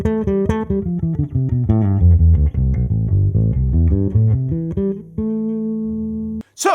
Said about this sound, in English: this is a 2-octave natural minor scale line finishing with a minor 7 arpeggio that sounds like this